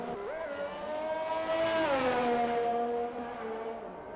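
Race car in a racing video game spinning around on track after a greedy throttle exit, engine note sliding up and down with a sustained tyre-squeal-like whine, loud and continuous for several seconds.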